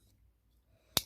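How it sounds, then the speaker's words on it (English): A single sharp snip from the scissors of a Leatherman Wave multitool, one brief crisp click near the end after quiet. "you have your scissors,"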